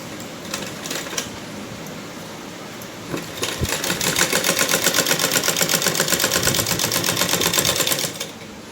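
A sewing machine stitches a belt salwar, its needle running in a fast, steady rattle after a few short starting bursts. The run is close and loud, with no voices.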